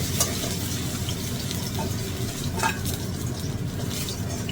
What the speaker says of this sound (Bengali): আমার মাছগুলো ভাজা হয়ে গেছে, এবার আমি এগুলো তুলে নেব।